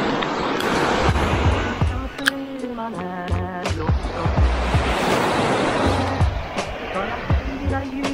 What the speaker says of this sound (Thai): ดูบรรยากาศฟังเสียงคลื่นไปแล้วกันนะครับ